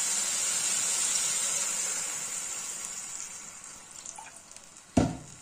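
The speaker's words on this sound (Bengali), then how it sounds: "এবার আমি এর মধ্যে দিয়ে দেবো পরিমাণ মতো জল।" Water poured into a hot pan for egg and cauliflower curry hisses steadily at first, then fades to soft simmering with a brief clatter near the end.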